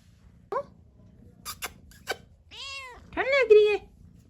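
A pet cat meows several times up close, with short chirpy calls and a longer drawn-out meow, interspersed with soft clicks and quiet background.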